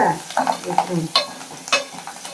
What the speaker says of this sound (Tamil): இப்போ கருவேப்பிலை போடுவோம்